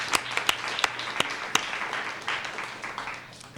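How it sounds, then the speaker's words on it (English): Audience at a school district governing board meeting gives a round of applause, a loud mix of many hands with a few sharp close claps, gradually tapering off. "give them a round of applause."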